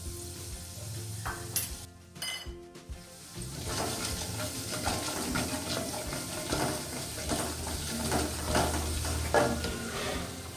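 Coriander powder, chilli powder and turmeric sizzle in a little oil for an aloo paratha potato filling, a steady close frying hiss with stirring scrapes after a brief quieter start.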